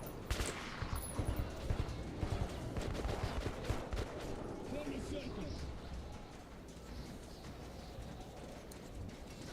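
Rapid gunfire from a firefight in the Metro 2033 Redux video game, with dense overlapping shots crackling through the first few seconds and continuing more steadily beneath people talking.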